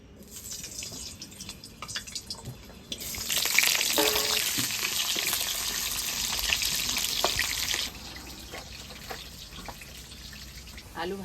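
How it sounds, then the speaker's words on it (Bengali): Potato pieces frying in hot oil in a wok for a special handi biryani, a loud broadband sizzle that surges about three seconds in, holds steady, then settles to a softer crackle with faint kitchen clatter. "তেল গরম হয়ে গেছে, গরম তেলে আলুটা দিয়ে দেবো।"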